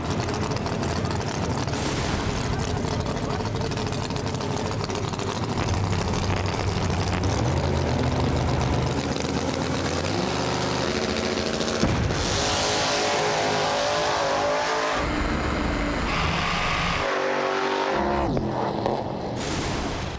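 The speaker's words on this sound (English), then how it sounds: "What a drag race." Street outlaw drag race cars roaring down the strip, a loud, dense engine rumble that swells and shifts, with sharp changes near the end as the cars pass, steady and close throughout.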